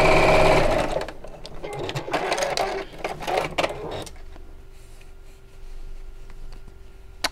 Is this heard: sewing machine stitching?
yes